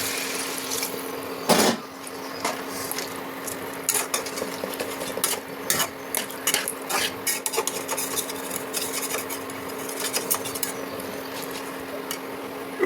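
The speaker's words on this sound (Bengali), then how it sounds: "জলটা ঢেলে দিই।" Water poured into a cooking pot in a home kitchen, a steady running splash with clinks of utensils and metal over a constant low hum, fairly close.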